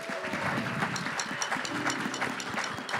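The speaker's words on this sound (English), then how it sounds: "can y'all give her a round of applause?" An audience claps in a church gathering, with a steady patter of many hands close by, continuous throughout and with a few faint voices underneath.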